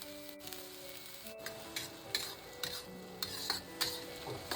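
Tofu skin and chili peppers stir-fried in a wok in a rural home kitchen: steady sizzling with sharp metallic clinks of the spatula scraping the pan at irregular intervals, close up and alone.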